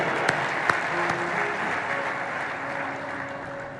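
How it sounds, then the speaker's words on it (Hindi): An audience at a Ram Katha gathering in Haridwar applauds for Pradeep, a dense, steady wash of clapping with a couple of sharp louder claps near the start and faint sustained tones underneath, slowly tapering off. "प्रदीप के लिए तालियां"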